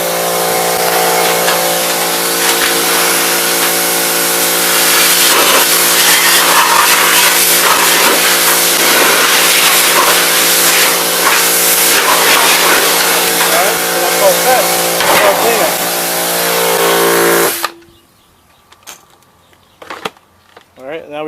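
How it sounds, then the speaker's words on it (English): A pressure washer blasts dirty lint out of a Kenmore commercial dryer part, a loud, steady, close spray hiss that runs continuously and then cuts off abruptly, leaving a few faint knocks. "Just power wash it. Get all that dirty lint out of there."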